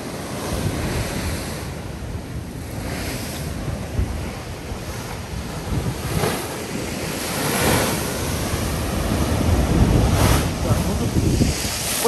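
Black Sea waves surge and break on the shore at Lazarevskoye near Sochi, a steady broad wash rising in repeated swells with heavy wind buffeting the microphone.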